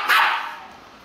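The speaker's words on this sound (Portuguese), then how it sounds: "Ele é o cachorro que anda em pé." One short, close dog bark, loud at first and trailing off, with no talk over it.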